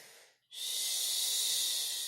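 A long, deep yoga inhale during a calming prenatal bedtime session: a steady, breathy rush of air that starts abruptly after a brief pause and holds evenly for over a second and a half, close and alone.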